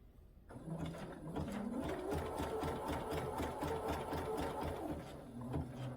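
A sewing machine quilting through batting runs in a fast, steady mechanical whir with rapid needle ticks, close and continuous after a brief quiet start.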